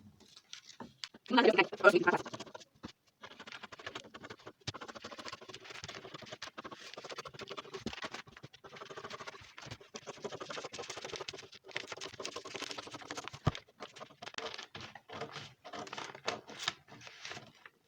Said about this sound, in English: You can see the lines that I'm cutting.